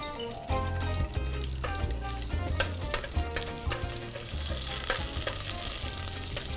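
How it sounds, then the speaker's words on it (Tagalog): Garlic and onion sauté in a pan with a continuous close sizzle and crackle, steady and fairly loud from start to finish, mixed with faint background music. "nagisa na natin yung ating bawang sibuyas"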